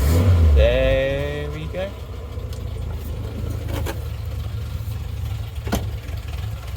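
A Morris Minor with an A-series engine cranks briefly with a rising whir, then catches and settles into a steady low idle, close by, with a few clicks and a short spoken remark over the running engine.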